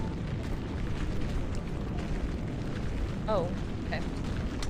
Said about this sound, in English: A deafening explosion cuts off the newscaster